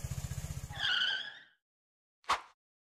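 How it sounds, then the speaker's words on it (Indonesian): A motorcycle engine chugs in short rapid pulses, then revs and roars away, fading within about a second and a half. A brief separate thump follows after a gap. "Kayaknya itu suara motornya si Desi"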